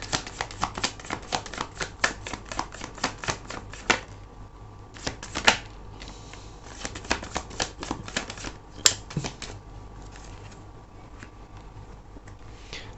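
Tarot cards riffled and shuffled, then drawn from the deck, making rapid crisp flicking bursts close by, with short pauses between runs and a few sharper slaps as cards are set down.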